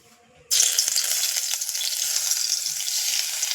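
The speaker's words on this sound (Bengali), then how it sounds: "এবার মাছের ঝালটা আমি চাপিয়ে দেবো।" Fish jhal with crushed ginger, garlic, green chilli and onion hitting hot oil in a pan: a sudden loud sizzle bursts in and keeps up as a steady, close hiss of frying.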